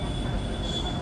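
A train at an Indian railway junction makes a steady loud rumble with a thin high whine held across the whole second.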